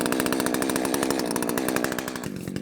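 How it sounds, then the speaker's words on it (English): A Husqvarna-style 620 chainsaw revs hard and steady while bucking upright-standing wood, a loud close buzzing cut that drops off to a lower idle near the end. "I'm going to go ahead and grab my big saw and I'll buck this stuff up standing upright"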